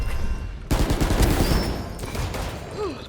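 Valorant gunfire crackles in loud rapid bursts of shots, close and dense, filling most of the short stretch with no talk over it.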